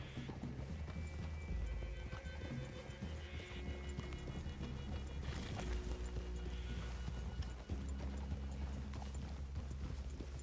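Horse hooves clip-clop steadily through Red Dead Redemption 2 game audio, a continuous rhythmic clatter of riding horses with an occasional whinny, set under a dense bed of music and ambience.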